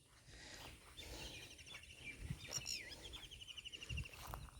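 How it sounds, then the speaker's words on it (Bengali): Faint birdsong drifts across a secluded, quiet riverbank. Scattered chirps and short whistled calls sit over a soft hiss of insects and outdoor background noise. "কি সুন্দর লাগছে পাখির ডাক।"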